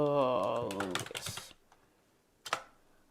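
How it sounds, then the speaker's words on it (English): Fingers type on a computer keyboard in a burst of quick clicking keystrokes, followed after a pause by a few final key taps, close and fairly quiet. "Let me type it out."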